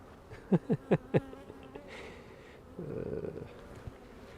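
Honeybees during a queen inspection of a nucleus hive split, giving a low, soft buzzing hum after a few close knocks, with the drone swelling toward the end.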